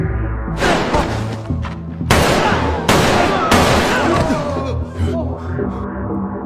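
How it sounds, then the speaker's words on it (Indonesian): Gunfire in a Squid Game episode scene during the candy-carving game, several loud sharp bursts in quick succession over a tense dramatic soundtrack, close and forceful. "Dan dia pun langsung ditembak mati di tempat."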